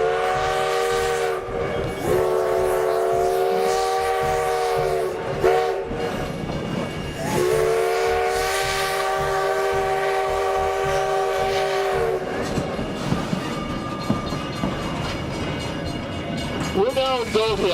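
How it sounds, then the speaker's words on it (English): Steam train whistle sounding at a road crossing near Virginia City and Gold Hill, Nevada: long, loud harmonic blasts, one from about 0 to 5 seconds and another from 7.5 to 12, over the rumble and clatter of the moving train. "I'm just going to be quiet and listen to the steam whistle."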